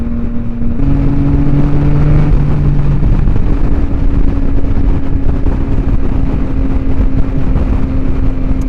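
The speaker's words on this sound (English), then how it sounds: "This bike is so much louder with this exhaust on it." A 2023 Yamaha XSR900 motorcycle with a loud aftermarket exhaust gives a loud, steady engine drone with a low exhaust rumble, holding a fairly constant pitch with a brief rise early on, close to the listener.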